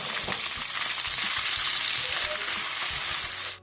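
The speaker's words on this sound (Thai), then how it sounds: "ใส่ผักกะนากับ หน่อไม้ฝรั่งลงไปผัด" Chinese kale and asparagus hit a pan with garlic and are stir-fried, giving a steady, dense sizzle with faint scraping and clinking of stirring, close and continuous without speech.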